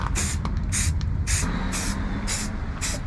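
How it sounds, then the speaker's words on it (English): Short bursts of an aerosol spray can coating rust-repaired metal on a Suzuki Jimny, six hissing sprays in a fairly even rhythm with brief pauses between them, loud and close. "so I'm going to do the spray paint now"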